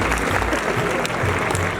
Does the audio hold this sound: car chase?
no